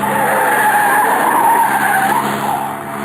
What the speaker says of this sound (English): Hang on, corner on the handbrake makes things kind of sudden.